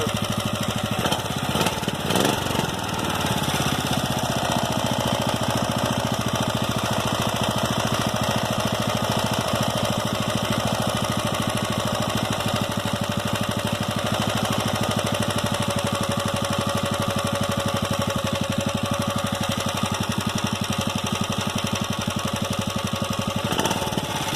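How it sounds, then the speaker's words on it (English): A Briggs & Stratton 6.5hp small engine with a new carburetor starts with a few sputters, then idles loud and steady with a rapid, even chugging that holds for over twenty seconds. "might be a little bit too low on the idle there"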